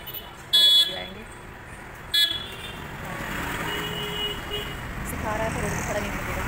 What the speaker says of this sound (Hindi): गाड़ी हल्का हॉर्न बजा बजा के चिल्ला रहा है